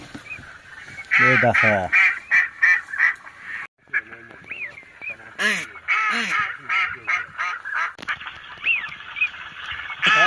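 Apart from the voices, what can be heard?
ducks calling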